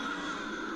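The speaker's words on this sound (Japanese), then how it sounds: "またカラスだ。" A single crow gives a harsh, close caw that fills the short moment on its own, with no voices over it, as a drama CD sound effect.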